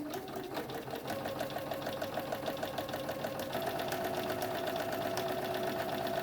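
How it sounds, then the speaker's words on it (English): A sewing machine straight-stitches a fabric face mask, making a fast, even, rhythmic chatter that runs without a break. The sound is close but fairly quiet, and there is no talking. "just using a straight stitch, about the width of the edge of the presser foot"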